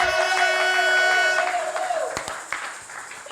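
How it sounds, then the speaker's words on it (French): A church congregation cheers and applauds for the Lord, a loud swell of voices and clapping that fades over a few seconds, with a sustained sung or shouted tone on top and a few sharp claps near the end. "Ah, cette acclamation-là,"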